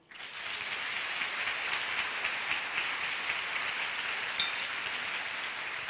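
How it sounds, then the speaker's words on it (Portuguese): A church congregation applauds, a dense, steady patter of many hands that swells in quickly and holds at an even level, with no voices standing out. "Aplauda o Senhor"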